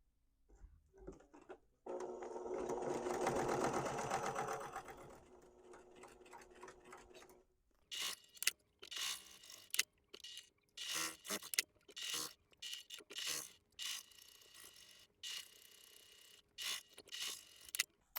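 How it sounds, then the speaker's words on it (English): A sewing machine quilts layered potholder fabric pieces. It opens with a steady whirring run of stitching, then shifts to short, choppy bursts of mechanical clatter separated by brief pauses. The sound is close and there is no talk. "So let's quilt these pieces, and then we'll move on to the next step"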